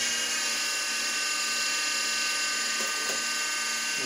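A wood lathe runs at about 3,000 RPM while turning a bubinga pen blank, giving a steady, loud mechanical whine with a constant high-pitched tone and faint rattling throughout.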